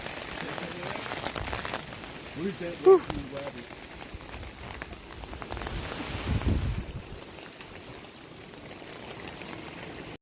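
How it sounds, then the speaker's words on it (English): Heavy rain falls outdoors at a wilderness bushcraft camp as a continuous broadband hiss, with a man's brief exclamation and other voices over it. "Well, folks, it's still raining like crazy."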